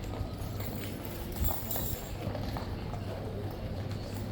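Hooves of the Life Guards' horses clip-clop at a King's Guard ceremonial inspection outdoors, faint scattered steps under a steady rumble of ambient noise.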